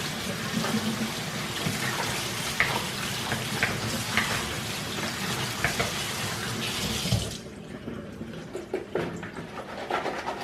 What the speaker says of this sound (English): Now we're going to wash them off.